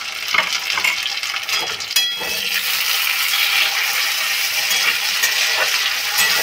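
Tomato dropped into a hot frying pan while cooking a gathi kochu (taro) dish, giving a steady loud sizzle with scraping stirs and a sharp clatter near the start.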